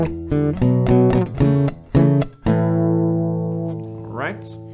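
Acoustic guitar plays the main part of a song, a run of bright, rhythmic strums and plucked chords followed by a long ringing chord that fades, close and loud, with no voice over it.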